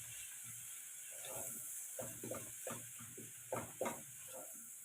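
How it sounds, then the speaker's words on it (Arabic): Minced meat and onions sauté in a pan over a soft background hiss, with a run of light scrapes and sizzling bursts as the mixture is stirred, fairly quiet and close, with no talking. "هنزل عليها باللحمه المفرومه وهبتدي اعصجها كده مع البصل"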